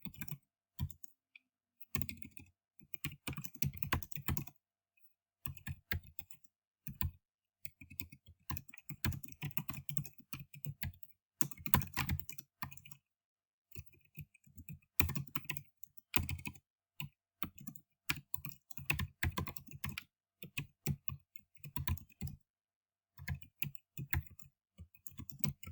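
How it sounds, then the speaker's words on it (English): Quick bursts of keystrokes clatter on a computer keyboard in short irregular runs, broken by brief pauses, close and fairly quiet, with no talking. "Type your answer in the box,"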